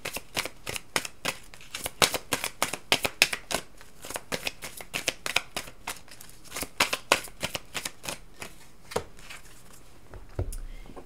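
Oracle cards shuffled and cut by hand, a quiet, steady run of crisp riffling snaps and slaps in quick rhythm, close up with no talking.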